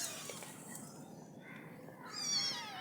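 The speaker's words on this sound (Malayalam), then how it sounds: "ഇതാണ് ഒരു പൂച്ചക്കുഞ്ഞ്." A kitten meowing faintly, a couple of thin high mews with a longer wavering cry near the end, quiet and close in a hushed room.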